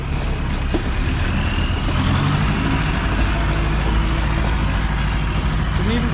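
A classic Land Rover 200 Tdi climbs a muddy off-road hill, its diesel engine droning loud and steady with a faint high whine over the top.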